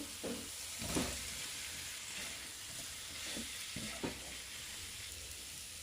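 Potatoes fry with cumin and spices in a pan for a homestyle aloo jeera, giving a steady close sizzle with a few louder stirring scrapes and no talking.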